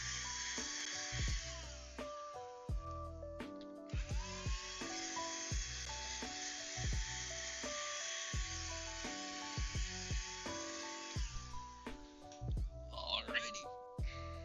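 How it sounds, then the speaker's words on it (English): A small vacuum cleaning out a game console during a repair gives a steady, close airy whine that holds for several seconds before cutting off, running under background music with some quiet voice. "Sorry about the noise of the vacuum."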